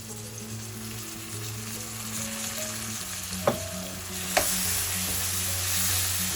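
Ginger garlic paste and green chillies sautéing in a pan for a chicken gravy, with a steady hiss of frying under a low background hum and two sharp utensil knocks partway through.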